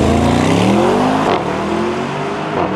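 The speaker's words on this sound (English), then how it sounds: "Here it is, the all-new Mercedes-AMG SL63 Roadster." Mercedes-AMG SL63 Roadster, 2023, driving: a loud, close engine note rises as it accelerates through a gear, drops back after a shift, then carries on at a steadier lower drone.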